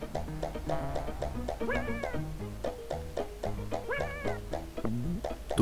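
Cats meowing in an NES video game, short chiptune-style meow blips repeating in a steady rhythm over looping 8-bit music, with two longer wavering caterwaul calls.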